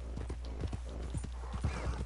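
Horse hooves clip-clop at a gallop in Red Dead Redemption 2, a quick, steady run of soft thuds heard fairly quietly over a low rumble.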